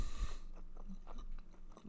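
Close, wet chewing of food by a single person, a soft steady mastication with faint smacking and small bites running alone for about two seconds, with no talking.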